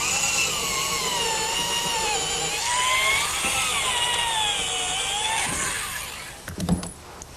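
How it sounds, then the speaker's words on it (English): A drill bores a 1/4 inch pilot hole through wood for the threaded part of a bolt on a picnic table build, a steady high whine that runs alone for about six seconds and then stops with a few clunks. "And now a pilot hole with a 1/4 inch size for the threaded portion."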